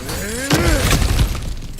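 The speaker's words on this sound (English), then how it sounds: "back to smashing through things for fun and profit" Breakable objects smashed in God of War Ragnarok: a sharp crash of shattering and breaking debris bursts in midway, followed by a few scattered smaller impacts over a low rumbling game background.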